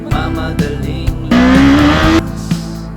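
A Kawasaki Z500 SE motorcycle with a 451cc engine accelerates hard, its loud rising revs climbing through a gear with sharp changes, heard close and alone.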